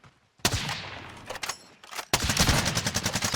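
Gunfire rings out in Warzone while shooting at an enemy: a sharp shot, a short rattling burst, then a longer rapid automatic volley, loud and close.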